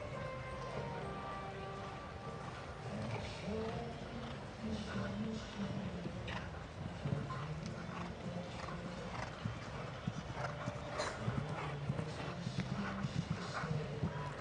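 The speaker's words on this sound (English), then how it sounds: "This is the horse that was previously ridden by Eden Le Prevost Bin Le Breton" A show-jumping horse moves around an indoor arena at a five-star competition, its hooves giving faint, steady clip-clop beats under an announcer talking and a low crowd murmur.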